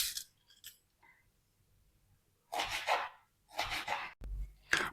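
A carrot is peeled at close range in a few short, crisp scraping strokes, separated by quiet gaps.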